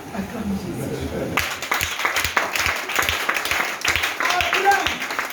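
A church congregation applauding in acclamation of Jesus, a steady wash of clapping from many hands that begins after a second of speech and continues under a talking voice.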